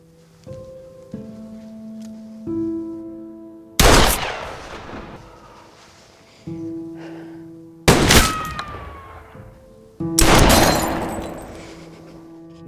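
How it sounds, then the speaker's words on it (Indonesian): Loud pistol gunshots ring out in separate blasts, each a sharp crack with a long decaying tail, spaced a few seconds apart over a steady tonal music bed. "Jelas suara tembakan pistol tersebut terdengar jelas oleh pria yang ada di rumahnya itu"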